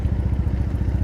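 A motorcycle exhaust on a ride through Tokyo gives a loud, close, rapid, even pulsing throb that holds steady for the whole brief moment.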